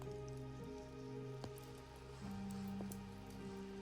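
Raindrops fall in a lush redwood forest, a faint, steady patter with scattered drips. Low, quiet ambience runs underneath.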